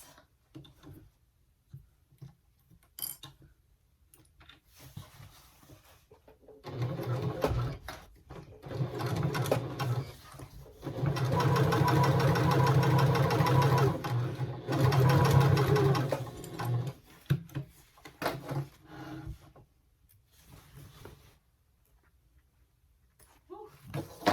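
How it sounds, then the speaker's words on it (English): A sewing machine stitches a straight seam across a tote bag, running in short bursts at first and then in a steady, close hum for several seconds before stopping, with quiet handling noises in between. "I'm gonna sew just straight across on both pieces"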